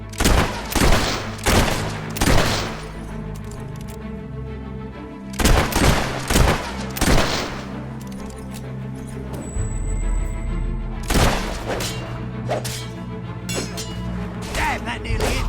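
Bursts of rapid gunfire crack out in loud clusters, a fusillade of sharp shots separated by brief lulls, with thuds and impacts mixed in over a low rumbling background.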